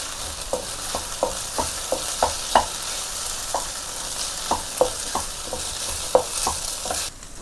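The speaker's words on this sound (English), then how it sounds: "Now I am going to add 1 cup of cooked rice. Mix it well." Cooked rice being stir-fried in a pan for street-style egg fried rice: steady frying hiss with a dozen sharp, irregular scraping clinks of the spatula as the rice is tossed and mixed, close and without talk.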